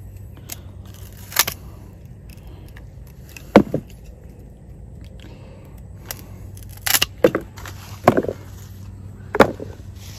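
Cassava stems being chopped above a basket, a few sharp separate cutting snaps spaced several seconds apart over a low steady background hum, with no talk.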